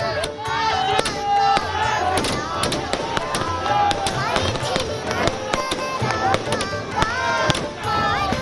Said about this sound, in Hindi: आतिशबाजी तो होनी ही है।